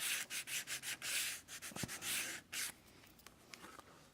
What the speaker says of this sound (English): So I will also sand about 3/4 of an inch in on this piece.